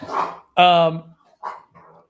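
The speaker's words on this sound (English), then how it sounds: "Oh, sorry, my dog again." A pet dog barks indoors, close and loud, with several sharp barks in quick succession and shorter, quieter yips trailing off.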